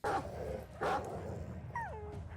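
Dogs in an animated Invincible episode give short yelps and whimpers, two brief cries followed by a high, falling whine, heard close and alone.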